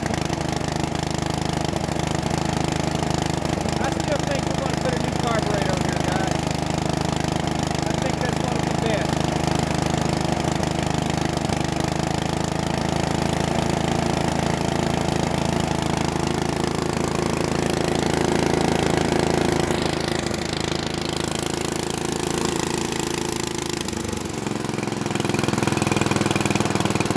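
An abandoned Bolens riding mower with a freshly cleaned carburetor runs and idles steadily, a loud, close, continuous chugging engine drone for the whole stretch, with someone talking over it at times.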